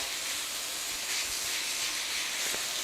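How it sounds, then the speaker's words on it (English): Minced meat browns in a pan for sloppy joes, giving a steady, loud hissing sizzle with faint stirring bumps underneath and no speech. "So get your mince nice and brown"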